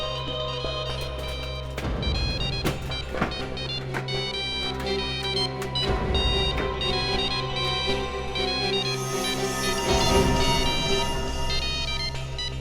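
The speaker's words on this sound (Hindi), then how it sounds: "देखिए देखिए, बज रहा है ये। आप कुछ कर। आप ऐसा नहीं कर सकते। सर, मोबाइल फोन इस ट्रंक के अंदर है।" A mobile phone ringtone sounds from inside a closed trunk, a steady looping tone with bursts of clatter and muffled commotion around it.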